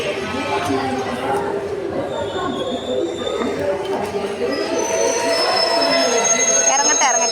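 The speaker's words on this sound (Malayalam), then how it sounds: "ഒരു ട്രെയിൻ കയറി" A train rolls along the rails with a sustained rumble and squealing wheels, steady and fairly close, while people chatter nearby.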